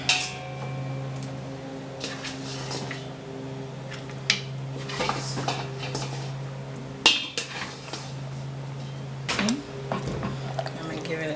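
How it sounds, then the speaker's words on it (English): Spoon clanking against a pot of simmering oxtail stew as it is stirred, irregular metallic scrapes and knocks over a steady stove hum, with a voice speaking in the background. "Give it a stir."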